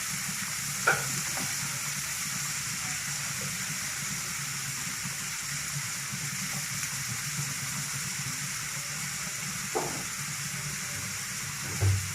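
Mixed vegetables and onion fry in a pan with a steady, even sizzle throughout, broken by a few light knocks and scrapes of a spatula.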